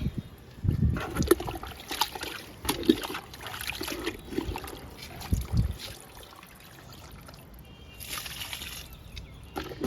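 Liquid fertilizer made from kitchen waste is poured onto a large lemon plant, giving uneven splashing and trickling of fluid onto soil and leaves, moderately close, continuing in bursts for about ten seconds with no talk.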